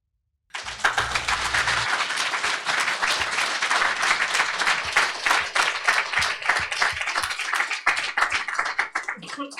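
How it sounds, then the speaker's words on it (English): Applause from a room full of people right after a talk on AI and trust, a dense, steady clapping that starts abruptly and keeps going at full strength for nearly ten seconds, then thins out toward the end. "you could hear all the applause in the room"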